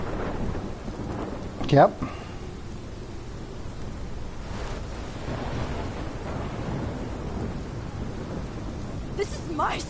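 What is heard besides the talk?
thunderstorm with rain in Life is Strange video game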